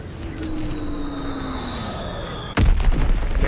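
Bombing run in Call of Duty WWII multiplayer: a steady drone of aircraft overhead with a descending whine, then a sudden loud explosive impact near the end that lingers in rumbling debris.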